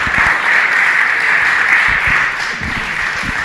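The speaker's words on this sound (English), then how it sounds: "Please clap for Jonah Solheim." Dense applause from a live story slam audience at a Madison storytelling event, a loud and steady wash of many hands clapping close by for the whole stretch.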